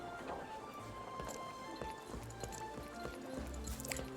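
Horse hooves galloping in the Lost Ark video game, quick repeated clip-clop thuds against a busy game background, moderately quiet with no talk.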